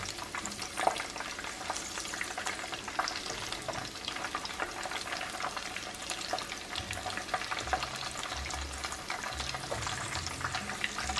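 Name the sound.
shrimp patties frying in grease in a pan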